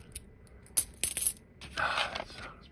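Silver dimes clink and rattle as they drop into a treasure chest, with a few sharp metallic strikes followed by a longer jingling cascade of coins, close and fairly quiet.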